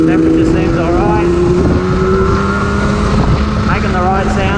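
Yamaha RZ 250 motorcycle engine, a restored two-stroke, revving steadily around 6,000 rpm, loud and close with a constant harmonic drone and slight pitch swells, accompanied by wind buffeting.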